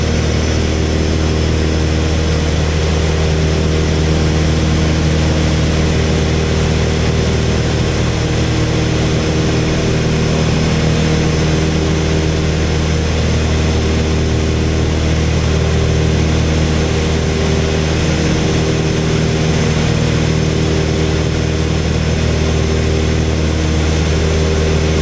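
Twin engines of a Piper Seneca airplane drone steadily in flight, a constant loud propeller hum with low throbbing tones and no voices.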